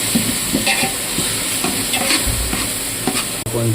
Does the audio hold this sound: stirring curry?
yes